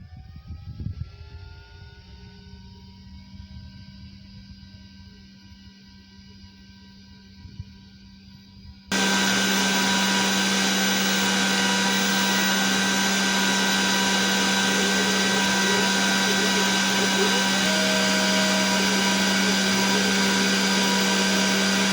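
A CNC machine starts up with a push of its button and runs steadily, a loud continuous whirring drone with a strong low hum holding unbroken after a quieter stretch of faint ticks and small mechanical sounds.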